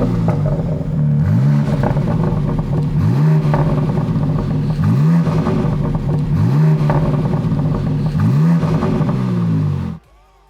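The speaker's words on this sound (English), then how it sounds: "And now let's check out how this BMW X3M sounds." Euro-spec BMW X3 M Competition with OPF filters revving, the engine and exhaust rising and falling in about five distinct pulls, loud and close, before cutting off abruptly near the end.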